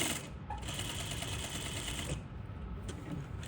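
A smocking machine runs with a steady, fairly quiet mechanical whir and rapid rattle, holding an even level throughout with no voices.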